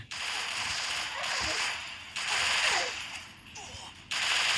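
Rapid automatic gunfire from the video game Free Fire, loud bursts repeating in several close bursts with short gaps, while a player talks now and then.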